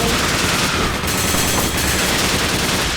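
Gunfire in Resident Evil 5 rattles in a loud, dense, continuous burst of rapid shots, harsh and close throughout.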